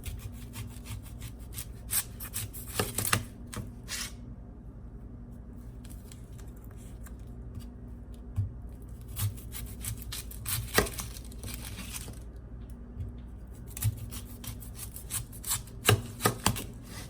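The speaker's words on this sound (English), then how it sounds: "So start slicing your onions for your onion rings." Onions sliced with a knife on a board for bacon-wrapped onion rings: repeated close scraping strokes in irregular bursts, with quieter gaps between runs of cuts.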